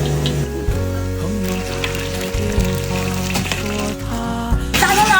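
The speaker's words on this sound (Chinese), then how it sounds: "油热下锅给它炸炸啊。" Cornstarch-coated pieces deep-frying in hot oil crackle and bubble steadily beneath prominent tonal background music, with a brighter spatter near the end.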